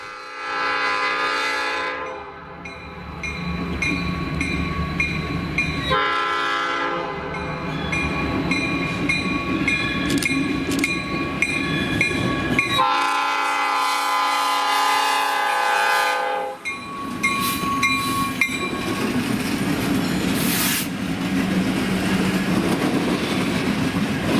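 Light-power freight locomotives on the B&LE rumble past at close range, their air horn blaring repeatedly in long sustained blasts over the steady roar of engines and rolling wheels.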